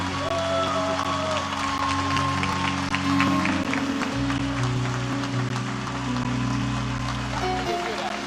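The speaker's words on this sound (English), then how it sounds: "je vous demande d'applaudir très très fort Vanessa Benjamin, Madame Michael Benjamin" Applause at a celebration-of-life gathering, sustained clapping filling the room for several seconds beneath a steady low music tone, with a voice heard over it.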